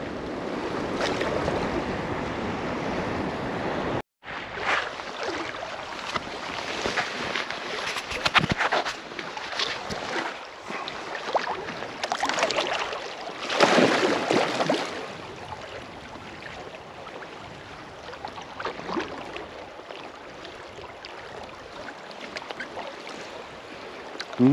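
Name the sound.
river flowing during a float trip after rapids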